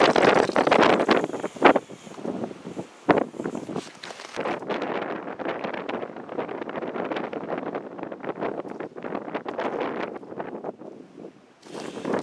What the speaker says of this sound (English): Hopefully this wind doesn't ruin these talking shots entirely.